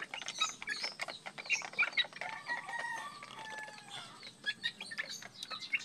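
Chickens and young pullet chicks peck at mixed feed, with busy overlapping clucks and high chirps close by, small pecking taps and a brief flutter, no voices.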